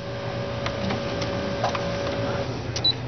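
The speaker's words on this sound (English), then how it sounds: "what it's doing is zigzagging over that cording" Sewing machine running a narrow zigzag satin stitch over a loop of piping cord under a quarter-inch foot, a steady close mechanical whir with faint rhythmic ticking, no voices.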